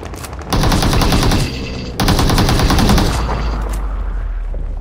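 Loud automatic gunfire in the battle royale game BGMI (PUBG), two sustained rapid bursts separated by a brief dip, then a lingering low rumble as the shooting fades.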